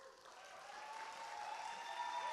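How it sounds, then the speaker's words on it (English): Steady applause from a university chapel audience honoring the grand, faculty and student marshals, continuous and even throughout without pause, fairly distant and diffuse. "Please give all of them a round of applause."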